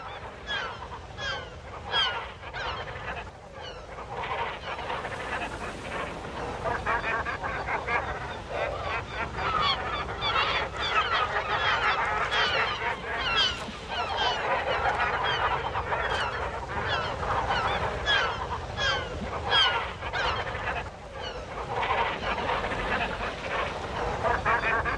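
Gull chicks and adults call in a colony in Galicia, a dense chorus of overlapping cries and squawks that carries on without pause.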